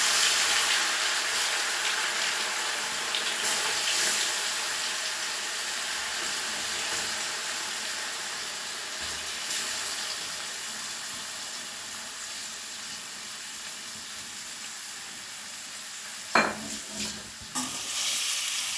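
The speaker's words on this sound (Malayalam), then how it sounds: "എണ്ണ തിളച്ച് കിടക്കുകയാണ് കേട്ടോ അതിലേക്ക് നമുക്ക് ഈ ചിക്കൻ ഇട്ട് കൊടുക്കാം" Chicken frying in hot oil for chicken mezhukkupuratti: a long, steady, close sizzle with occasional stirring, a couple of sharp utensil knocks near the end, no voices.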